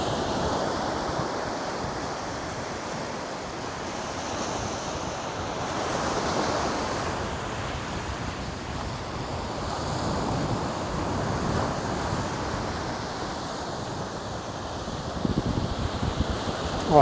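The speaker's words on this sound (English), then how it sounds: "Just listen to the ocean here." Steady roar of ocean surf breaking against a barren rocky shore on the coast of Caleta de Fuste, Fuerteventura, continuous and fairly loud, with gusts of wind buffeting the microphone.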